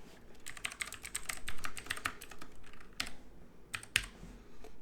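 Fingers tap a computer keyboard in quick uneven bursts with brief pauses, the keystrokes crisp and close, and no voice.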